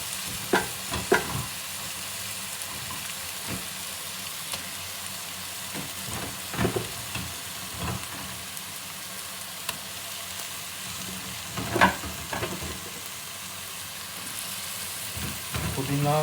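Ginger, garlic and green chilli paste fries in a pan for mutton biryani, a steady sizzle broken by scraping stirs and clinks of the spoon, close and alone.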